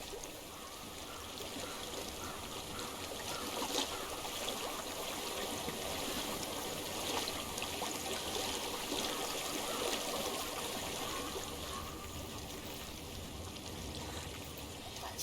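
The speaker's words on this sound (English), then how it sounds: "I hear water. Go to it." Stream water flows steadily in the video game Hellblade: Senua's Sacrifice, a constant trickling, burbling wash at an even level with no voices.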